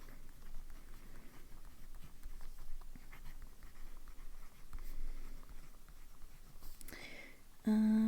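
A broad-nib fountain pen scratches softly across paper in short strokes, faint and close, then a brief louder rustle and a steady tone near the end.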